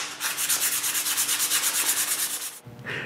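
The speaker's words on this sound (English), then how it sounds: "Eventually, I have all the molding pieces I need. I just need to sand them a little bit." Wooden molding pieces for a bathroom towel cabinet are sanded with a steady, rhythmic rasping stroke that stays loud and continuous for about two and a half seconds, then stops with a short scrape.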